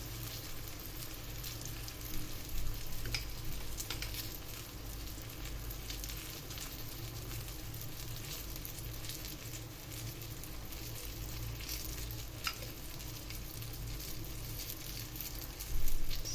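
Eggplant slices frying in oil in a pan, a steady close sizzle and crackle running throughout with occasional faint utensil taps and a louder burst near the end.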